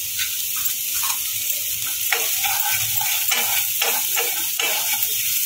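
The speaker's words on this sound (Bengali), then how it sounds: "এটাকে ভালো করে সাথে সব কিছু 1 মিনিট সময় নিয়ে নাড়বো" Semolina upma with vegetables stirred in a pan: steady frying hiss with repeated scraping and clinking strokes of the spoon, close and moderately loud, no voices.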